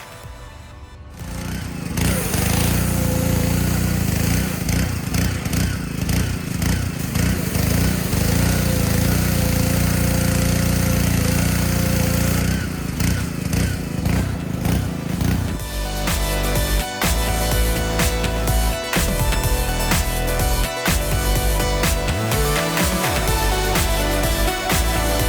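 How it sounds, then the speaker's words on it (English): A loud pressure washer blasts across an old brick walkway in a yard, a constant harsh spray and motor roar that starts after a second and runs continuously, its tone changing abruptly partway through. "Let's get the pressure washer now."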